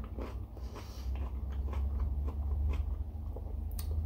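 Teeth bite and chew through a firm, unripe peach-like fruit from Algeria, giving a few close crunches followed by quieter wet chewing, all soft and near with no talk.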